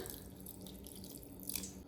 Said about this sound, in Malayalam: ഇത്തിരി വെള്ളം ഒഴിച്ച് കൊടുക്കുന്നുണ്ട്